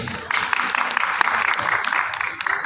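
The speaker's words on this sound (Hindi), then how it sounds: "ख़वातीन हज़रात, तालियां।" An audience claps at an award ceremony during a Punjabi film launch event, a dense, steady patter of many hands that starts promptly and carries on at moderate loudness for a few seconds.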